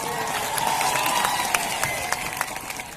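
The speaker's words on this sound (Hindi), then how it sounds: "तालियों से धन्यवाद देवे इस बेटी का जिसने इतनी हिम्मत की" Audience applause at a tribal day gathering, a moderate wash of clapping from a crowd with scattered sharper claps, steady over the whole stretch and fading slightly at the end.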